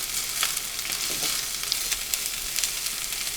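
Cabbage fries and chars in a hot pan with a steady, close sizzle and crackle, with occasional soft stirring scrapes and no voices.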